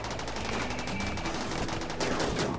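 Rapid, continuous gunfire crackles through a video game firefight, dense bursts of automatic shots running steadily at moderate, slightly distant loudness with no talk over them.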